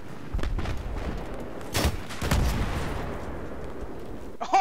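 Gunfire in an online shooter game, a few heavy booming shots and distant reports over a rumbling background, with a sharp blast at the very end.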